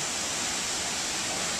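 A waterfall in a Panama rainforest canyon roars as a dense, steady broadband rush, close and continuous, with no voices.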